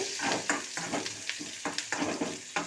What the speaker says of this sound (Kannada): ಒಣಮೆಣಸಿನ್ಕಾಯಿ ಈರುಳ್ಳಿ ಇಷ್ಟನ್ನು ಹಾಕಿ ಈಗ ಚೆನ್ನಾಗಿ ಫ್ರೈ ಮಾಡಿ